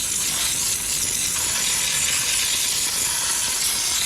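Household steam cleaner fitted with a small nozzle held close to the surface, blowing a loud, continuous broad hiss of steam that holds steady throughout with no talk.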